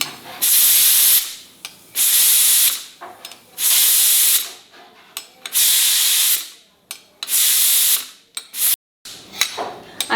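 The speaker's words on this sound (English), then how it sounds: "I have to let the steam off because I have to begin with the second step" A pressure cooker cooking khichdi vents steam in repeated loud hissing bursts, each lasting about a second, separated by short quiet gaps and faint clicks, close to the microphone.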